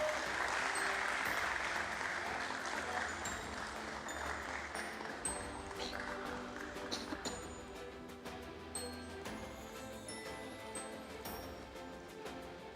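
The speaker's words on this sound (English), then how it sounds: "a huge round of applause for Mr. Pranshu Garg, our Chief Financial Officer" Ceremony audience at a closing bell event at the Bombay Stock Exchange applauding the Chief Financial Officer, a sustained round of clapping that slowly thins out, with a few faint clinks.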